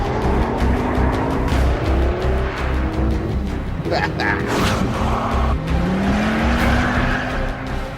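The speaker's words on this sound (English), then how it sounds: "It's the Ford Focus RS500, and let's not mess about." A Ford Focus RS500 with a 2.5-litre turbocharged engine drives hard, its engine droning loudly and steadily throughout with rising revs and a brief burst of tyre noise midway, while a voice talks over it.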